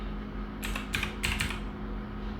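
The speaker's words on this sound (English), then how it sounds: "here we will type" Fingers type on a computer keyboard in a short run of about four quick key presses, close and clear over a faint steady hum.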